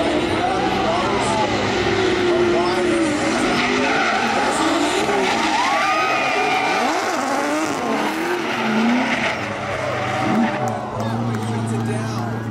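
Drift cars race at the 2016 Formula Drift Pro2 season close, tires squealing in long wavering screeches over roaring engines, loud and continuous, with a commentator talking throughout.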